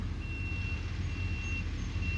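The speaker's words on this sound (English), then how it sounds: "Big tree cutter truck there" A large tree cutter truck arrives at a residential tree-cutting job, its reversing alarm beeping at a steady interval over a low diesel rumble, moderately close and unaccompanied by talk.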